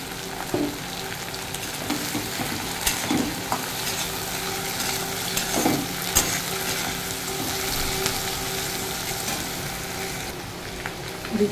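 Crab legs and crab innards going into a pan of frying onions in a village-style crab curry, giving a steady, fairly loud sizzle with occasional stirring scrapes and clinks throughout, no talking.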